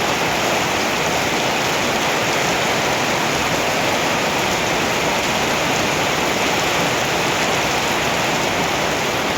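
Steady rain falls in rural Thailand, a dense, even hiss of drops on surfaces that stays loud and unbroken throughout, with no voices.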